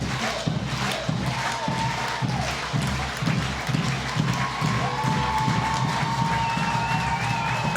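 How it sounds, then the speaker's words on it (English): A stadium crowd at a women's soccer match, Seattle Reign against Chicago Red Stars, roars and cheers steadily with rhythmic chanting and scattered whistles, loud and continuous throughout. "Crowd really getting into it now"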